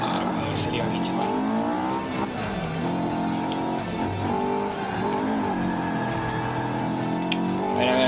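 A Honda S2000 racing in Forza 5 at Yas Marina holds a loud, continuous engine note that rises and dips through gear changes, heard up close over several seconds with a voice talking over it.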